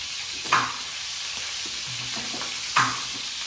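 Masala-coated food fries in a pan with a steady, close sizzle and two louder crackling pops as it is turned, with no talking.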